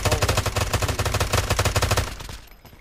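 Rapid automatic gunfire from a video game, a fast loud burst of shots lasting about two seconds before cutting off, with no talk over it.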